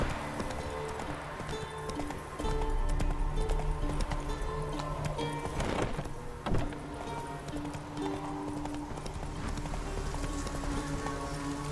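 Roach the horse gallops in The Witcher 3, a steady rhythmic clip-clop of hooves running close under layered game music and ambience, with a brief louder thump midway.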